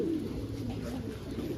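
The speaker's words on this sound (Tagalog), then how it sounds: "Yan talaga mga ibon natin" Racing pigeons coo at the loft, a low rolling cooing close by and fairly loud that runs throughout.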